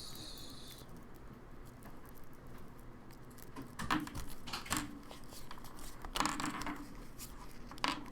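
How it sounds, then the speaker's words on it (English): A deck of cards is shuffled at close range, with quiet rustling and several brisk riffling bursts. "shuffle the cards."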